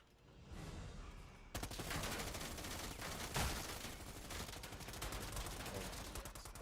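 Rapid submachine gun fire in the shooter game Predator: Hunting Grounds, a dense, sustained rattle of shots close by that starts abruptly and continues without pause, with a faint voice underneath.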